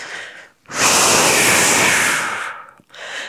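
A long, deep exhale during a gentle evening vinyasa yoga flow, close and loud, a breathy rush lasting about two seconds, bracketed by softer inhales.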